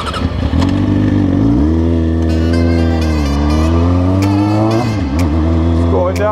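A Kawasaki Ninja ZX636 sport bike rides off-road, its engine holding a strong, close tone that climbs, settles, and dips as the throttle changes, with brief sharp clicks near the end.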